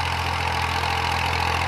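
A 1992 Massey Ferguson 240 tractor engine idles steadily close by, giving a constant low diesel rumble with an even, slightly knocking pulse and no other sounds or speech.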